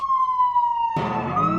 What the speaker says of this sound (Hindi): अरे मेरे फोन का रिंगटोन है भाई अंजलि।